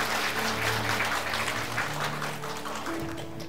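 A church audience applauds a pastor after a spring festival talk, a steady wash of clapping that slowly fades over a few seconds, with no speech over it.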